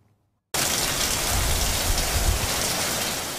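Rain falling steadily near a reservoir during a storm, a dense, loud hiss that starts abruptly after a moment of silence and holds constant, with no voices.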